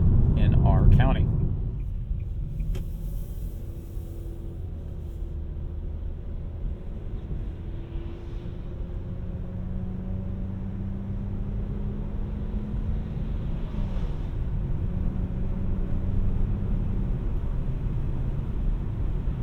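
Steady low road rumble inside a 2025 Nissan Sentra SR driving over rough gravel county roads, a continuous droning tire-and-cabin noise with a brief louder bump at the start.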